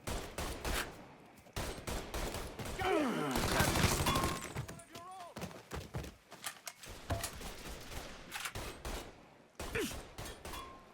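Gunfire in the video game Mafia 3 cracks out in rapid volleys and scattered single shots amid shouted voices and impacts, fairly faint overall with a busy, chaotic mix.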